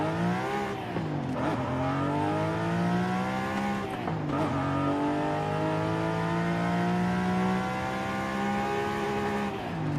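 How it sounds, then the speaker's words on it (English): A Ford Mustang engine in Forza Horizon 5, played with a racing wheel and shifter, revs up steadily from first gear in long rising sweeps, with brief dips at shifts, loud and continuous throughout. "Rev it out slowly."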